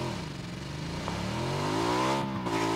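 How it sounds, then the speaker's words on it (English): Motorcycle engine in PUBG revving up in a steady rising sweep, loud and close, with gameplay ambience and no speech. "Get in the motorcycle, we're going."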